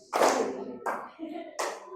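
Children in a sixth-grade classroom clap their hands together on a teacher's cue, three crisp, separate claps spaced roughly every 0.7 seconds, close and fairly loud.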